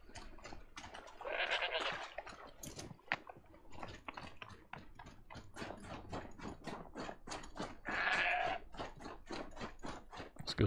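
A goat in Monster Hunter Wilds gives two faint, drawn-out bleats, set among a steady run of crunching, chewing-like clicks. No one speaks over it.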